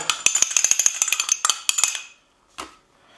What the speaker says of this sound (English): So we need 41 grams of the nitrite salt. Just gonna put that in this larger bowl.